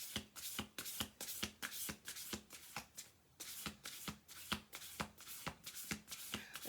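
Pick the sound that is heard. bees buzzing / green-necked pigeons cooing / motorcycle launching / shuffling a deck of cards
shuffling a deck of cards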